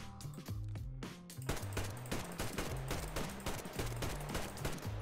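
Dense video game gunfire, heard as rapid automatic bursts and repeated shots over a constant bed of game sound effects and music, with no talk.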